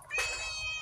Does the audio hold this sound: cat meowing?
yes